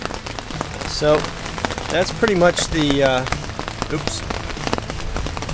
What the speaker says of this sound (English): Sorry for the noise of the rain.